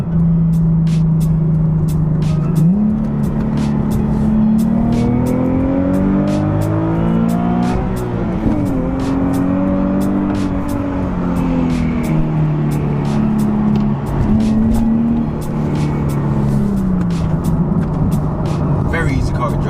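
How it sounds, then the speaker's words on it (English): A Nissan 370Z's exhaust drones steadily while driving, its engine note climbing and falling through gear changes, loud and close throughout with a voice talking over it. "I love how the exhaust sounds as well."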